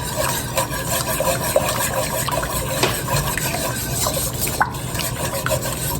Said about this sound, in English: you do want to continuously whisk during this time, because we want it nice and thick, and we don't want the butter and the flour to separate